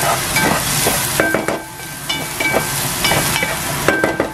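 Sliced onion fries in a pan for a misua soup with vegetable gyoza, hissing and sizzling loudly and close, with a few rhythmic clanks and scrapes of a utensil.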